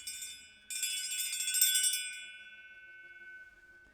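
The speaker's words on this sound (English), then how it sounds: "as you hear my bell ring" A meditation bell is struck and rings out clearly, its bright metallic tone shimmering and slowly fading away into near silence, alone and close.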